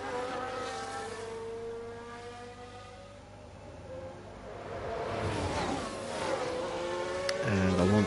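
Race car engines in F1 Manager 22, a video game, at the Sakhir circuit: a steady whine of engines that dips and then rises as cars pass close, ending in a loud nearby rev.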